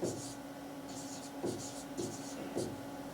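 A marker or chalk writes on a board during an engineering lecture on codal provisions, with repeated short scratchy strokes in a steady rhythm while a voice talks faintly underneath.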